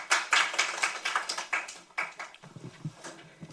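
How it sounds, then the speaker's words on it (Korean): Seminar audience in Korea gives a short round of clapping: sharp, fairly close claps for about two seconds that thin out and fade as quiet murmuring takes over. "큰 박수 부탁드립니다."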